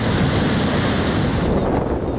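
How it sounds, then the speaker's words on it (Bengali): Rough sea in the Bay of Bengal churned up by Cyclone Yaas, a loud, steady roar of surf and waves blended with heavy wind noise, continuous and close with no voices. "ঘূর্ণিঝড় ইয়াসের প্রভাবে উত্তাল বঙ্গোপসাগর।"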